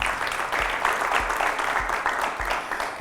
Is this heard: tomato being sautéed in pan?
no